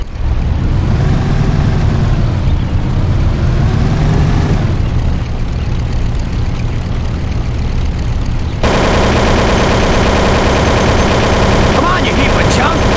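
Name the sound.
Thompson submachine gun fire in Mafia video game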